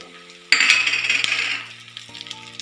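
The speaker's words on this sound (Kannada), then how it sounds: "ಆ ಬಿಸಿಯಾಗಿರೋ ಎಣ್ಣೆಗೆ ಧನಿಯಾವನ್ನು ಹಾಕ್ಕೊಳ್ಳೋಣ" Coriander seeds dropped into hot oil burst into a sharp, crackling sizzle that gradually settles, close up, with a steady low hum underneath and a faint clink near the end.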